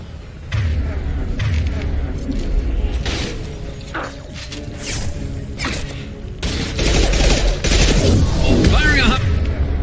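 Gunfire and heavy high-impact weapon shots in the video game Mass Effect 2 on Hardcore difficulty, loud bursts and booms running through the whole stretch alongside game music and effects, with voices speaking over the combat.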